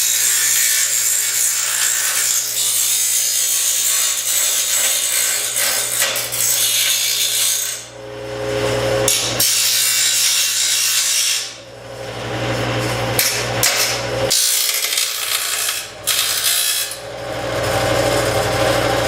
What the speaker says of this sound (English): we're going to finish off the edges with the grinder, get these smoothed out, get them nice and rounded